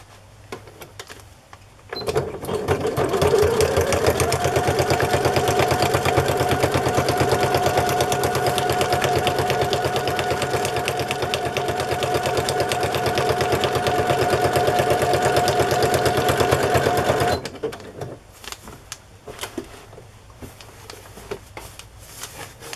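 A sewing machine stitches a journal cover made from a crinkly Amazon envelope. Its motor hums steadily and the needle clatters rapidly for about fifteen seconds, close and loud, then stops, followed by faint scattered clicks.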